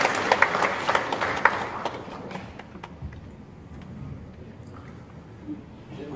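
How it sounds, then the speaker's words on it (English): Audience applause for a keynote speaker at a formal ceremony, a dense round of clapping that is loud at first and then thins and fades over a few seconds. "Please give a round of applause for Bapak Agus Jusyanto."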